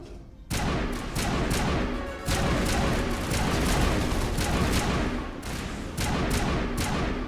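Gunfire in the Mass Effect video game, a dense fusillade of repeated loud shots and thuds beginning abruptly after a brief quiet moment, continuing nearly nonstop with a short lull midway.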